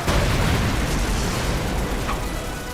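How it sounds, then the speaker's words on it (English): Flashbang grenade in the video game Trails Through Daybreak 2, a loud sustained burst of explosive noise that fills the whole moment and slowly fades. "Flashbang? Oh, yeah, that's a flashbang."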